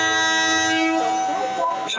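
A Gorakhpur–Kolkata special with LHB coaches, hauled by a Santragachi-shed locomotive, passes through Santragachi station; a loud, close horn blares for about a second, then gives way to rolling rail rumble.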